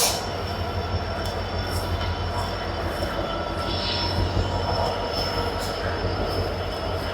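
Train arriving at a station platform in Bangalore, with a loud, continuous rumble of rolling cars and a sustained high wheel squeal throughout, no one speaking.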